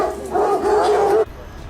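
A Pomeranian dog lets out a single drawn-out, high whining yip lasting about a second, loud and close, outdoors in Hyde Park, London, with faint background voices.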